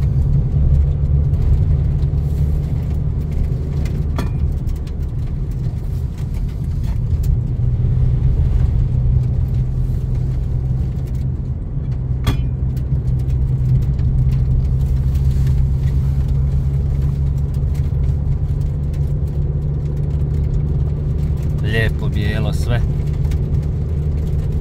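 A car passing on a snowy road in Lika in November, a steady mid-level engine and tyre rumble that stays near throughout, with a brief lighter rattle toward the end.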